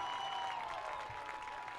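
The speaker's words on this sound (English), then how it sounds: "And the Hinton crowd celebrating." The Hinton crowd at a high school football game against Gehlen Catholic roars with distant applause and cheering, a steady wash of noise with no clear breaks.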